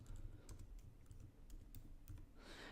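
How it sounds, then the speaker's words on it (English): Quick, light keystrokes tap on a computer keyboard while text for a beauty blog image is entered, a close, quiet burst of uneven clicks with brief pauses, ending in a soft rustle. "From here, I'm going to type in the text that I want."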